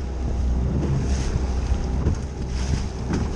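Heavy seas on a boat in a bay: strong wind buffets the microphone with a loud, constant roar, and waves slosh and surge against the hull close by.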